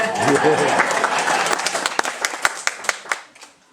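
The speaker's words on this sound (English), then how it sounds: "Yeah, give Doug an applause" Clapping from a small audience at a panel introduction, starting under overlapping talk and thinning into a few separate, sharp claps before fading out.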